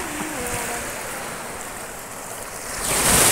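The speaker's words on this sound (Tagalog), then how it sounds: "Ang lakas ng tubig ngayon guys." Strong sea waves roll in at a coral beach, a steady broadband wash of surf with some wind noise that swells louder near the end as a wave breaks close by.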